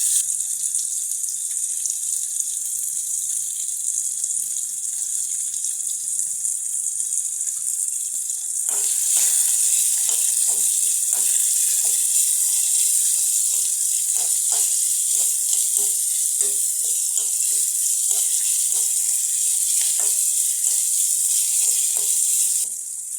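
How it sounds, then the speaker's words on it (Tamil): Onion, ginger and spices sauté in a pan with a steady bright sizzle throughout, joined midway by a run of close scraping and stirring taps, with no talking. "ஒரு 1 மினிட் 2 மினிட் மாதிரி கொஞ்சம் வதங்குறதுக்கு மட்டும் வச்சுருங்க."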